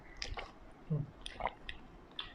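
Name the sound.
chewing and biting chicken drumstick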